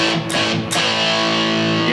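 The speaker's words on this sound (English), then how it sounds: "add the amount of distortion by the gain" Electric guitar played through a dirty British amp model in the Rock Shop app, two distorted strummed chords ringing out loud with a thick sustained buzz.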